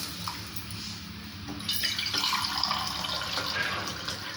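Water is poured into a pan of fish curry being cooked, a steady close splashing and trickling that swells midway and carries on evenly, with no talk over it.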